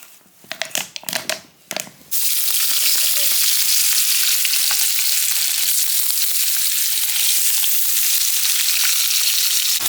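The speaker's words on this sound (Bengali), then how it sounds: "এরপর যে আমরা সসেজগুলো চিকন করে কেটে ভেজে নিচ্ছি" Thinly sliced sausages frying in a pressure cooker for a homemade pizza. A few handling knocks come first, then a loud, dense, continuous sizzle bursts in and holds steady close up.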